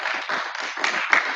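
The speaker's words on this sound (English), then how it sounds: "So if we could just put our hands together for clapping" An open mic audience at a community music event claps for the host, a steady close patter of many hands that keeps going with no voices over it.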